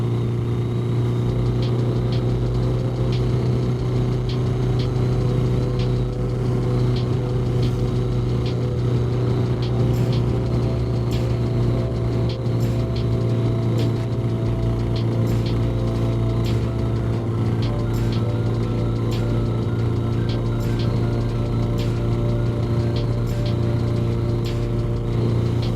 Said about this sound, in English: So that's my first big ride on the bobber.